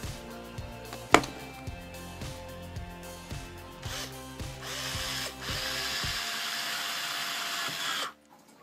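A cordless drill driver fitted with a roughly 1.8 mm bit bores small holes in a handmade buzzbait fishing lure, its motor whirring in steady bursts with a sharp click near the start, then running continuously before stopping abruptly.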